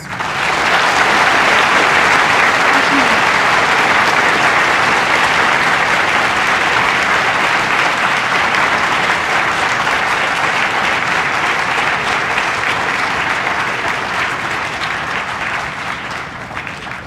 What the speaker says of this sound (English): Please join us in a round of applause for our Army veterans